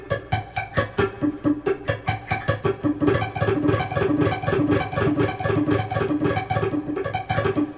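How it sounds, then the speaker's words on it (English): Steady, rhythmic picking on muted guitar strings, practising right-hand technique, with a fast even run of short percussive plucks continuing throughout, close and alone. "Now you can actually mute the strings and work on just the right hand."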